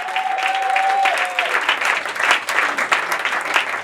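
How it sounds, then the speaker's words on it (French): A church congregation claps and cheers in a dense, steady wave of applause, loud and close throughout, with a voice calling out briefly at the start. "Tiens-toi debout et acclame très fort Jésus de Nazareth."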